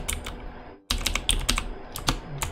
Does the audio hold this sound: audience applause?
no